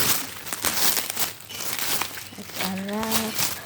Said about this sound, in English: So we gotta unwrap it now.